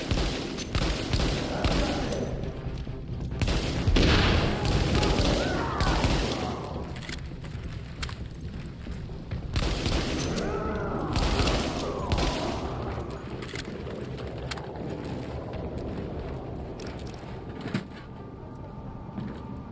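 Pistol gunfire in The Division, scattered bursts of sharp shots and impacts amid combat noise, with a voice talking over parts of it.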